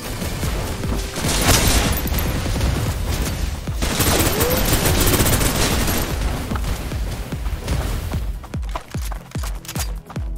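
Sustained suppressive gunfire in the Snowbreak: Containment Zone video game: a loud, dense barrage of rapid shots running for several seconds, then breaking into distinct separate bursts near the end.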